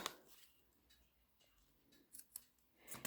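Scissors snip through card being trimmed to size for papercraft, a few faint, sharp cuts near the end in a quiet room, with light handling sounds between.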